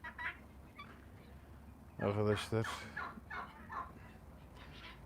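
Guinea fowl chicks give a short burst of chattering, gobble-like calls amid quieter peeps, with someone speaking briefly.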